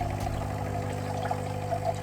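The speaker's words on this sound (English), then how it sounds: "So I've got to half fill it with the cold water," Cold water pours steadily into a drink dispenser, a continuous watery rush with a faint trickling edge, fairly close and filling the whole moment with no one speaking.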